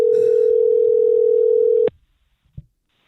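Steady telephone dial tone heard while a call is being placed, loud and continuous for nearly two seconds before cutting off, followed by near silence and a single faint click.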